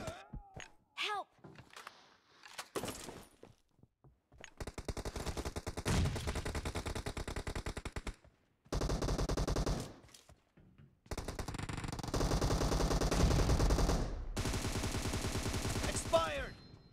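Bursts of rapid automatic gunfire crackle during an arena shooter video game match, coming in several loud volleys separated by short gaps, mixed with game announcer calls and grunts.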